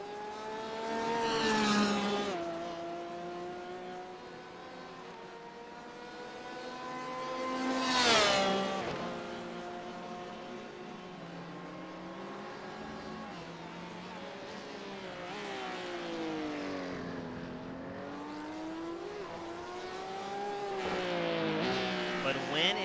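A BMW race car engine on pit road at Okayama during a GT Challenge race, a steady droning engine note with two swelling revving passes, moderately loud with commentary heard over it.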